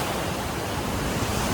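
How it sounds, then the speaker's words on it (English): Ocean waves break on the beach at Nha Trang, Vietnam, as a dense, continuous roar of surf and wind rushing at the microphone, loud and unbroken, with no talking. "Some pretty good waves coming in."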